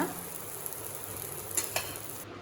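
A bread omelette sizzles steadily in a pan, with a couple of brief scraping clicks from a spatula as it is turned over, ending abruptly; no one speaks.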